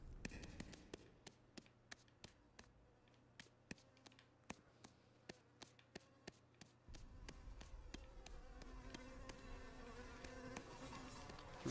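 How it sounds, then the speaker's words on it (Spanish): A faint, continuous buzz of flies in the sewers of the video game Ghost of a Tale hums beneath a regular series of sharp tapping clicks, growing slightly denser toward the end. "se escuchan muchas moscas nada más"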